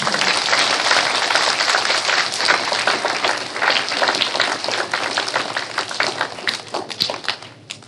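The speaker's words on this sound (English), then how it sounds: "Give yourselves a round of applause." A school assembly audience bursts into loud, dense applause, a continuous close-up roar of many hands clapping that holds for several seconds before thinning slightly.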